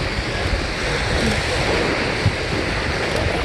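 Waves along Ocean View Beach on Chesapeake Bay in Norfolk, a steady broadband wash of surf mixed with wind buffeting the microphone, with no talk.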